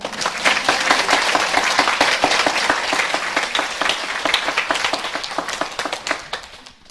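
An audience claps in welcome for a host at a Won Buddhist temple service, a dense, steady burst of applause lasting several seconds before tapering off at the end.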